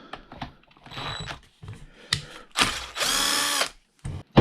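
Bolts being worked out of a Traxxas X-Maxx RC truck with a power driver: several short close mechanical bursts and clicks, then a longer steady whirring run near the end, with no talking.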